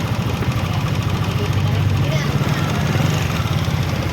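Yamaha Aerox 155 scooter with a new connecting rod idling, a steady close low putter carrying a faint rapid ticking throughout.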